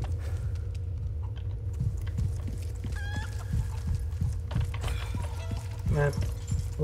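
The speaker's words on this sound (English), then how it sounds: "Hi, Mr. Chicken, drop an egg." Chickens cluck in short, scattered bursts within the Resident Evil 4 Remake game, moderately close over a steady low ambient hum, with a few sharper squawk-like notes near the end.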